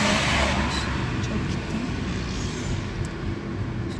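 Cars moving through a busy road junction, a continuous loud rumble of engines and tyre noise close by, with a voice faintly under the traffic.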